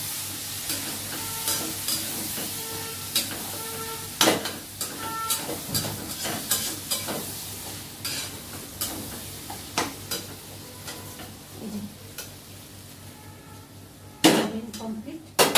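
Food being stir-fried in a pan, with a soft ongoing sizzle broken by repeated sharp scrapes and knocks of a utensil against the pan.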